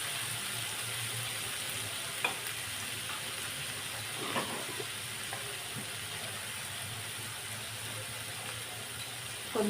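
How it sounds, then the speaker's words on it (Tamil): Tomatoes sautéing in a pan on low heat for egg bhurji, a steady soft sizzle with a few faint scraping stirs, close and continuous with no talking. "தக்காளி போட்டு நல்லா வதக்கட்டும்"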